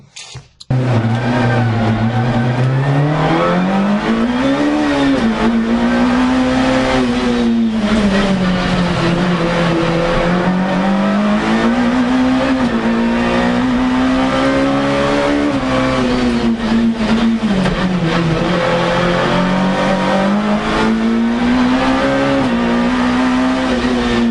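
Mk1 VW Golf with a swapped 1.8T engine on a trial run, loud and close, the engine note rising and falling through repeated revs and gear changes for the whole stretch.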